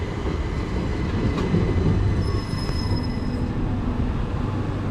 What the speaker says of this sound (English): 377468 will be taking the train.